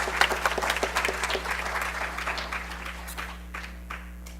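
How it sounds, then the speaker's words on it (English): An audience at the 33rd Arya Mahasammelan applauds a stage recitation with steady, moderately loud clapping that gradually thins and fades toward the end, with no talking. "So huge round of applause for him."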